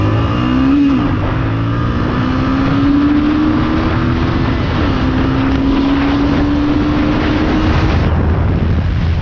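A Yamaha R15 sport motorcycle being ridden, its engine droning loud and close with a steadily rising whine as it accelerates, mixed with heavy wind rush and no talk.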